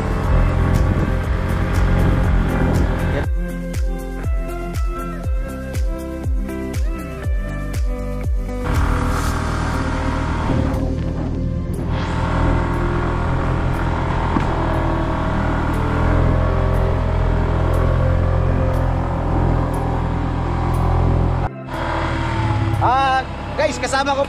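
Motorcycle engine droning and revving while climbing a steep mountain trail, with the sound steady and close throughout and a rider talking over it at times.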